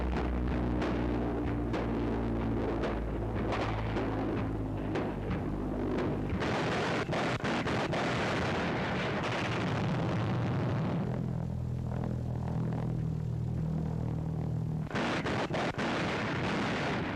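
Anti-aircraft guns firing in a wartime newsreel, a loud, continuous barrage of booming bursts and rumbling blasts that shifts in intensity throughout, with no voices.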